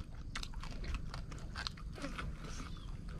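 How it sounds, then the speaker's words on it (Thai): Crispy dried fish being bitten and chewed up close, a run of quiet crunchy bites and crackles at an uneven pace, with no voices over them. "ปลากรอบดีกรอบแห้ง มันกรอบ"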